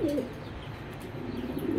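Racing pigeons of a strong foreign bloodline cooing nearby, soft low rolling coos repeating through a short stretch with faint background noise.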